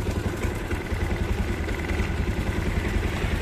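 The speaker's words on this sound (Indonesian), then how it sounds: "Itu pasang lagi mas, biar bisa hidup motornya." A Yamaha Jupiter MX motorcycle engine idles close by with a steady, fast, throbbing putter throughout, alone without talk.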